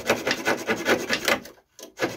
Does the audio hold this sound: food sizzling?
no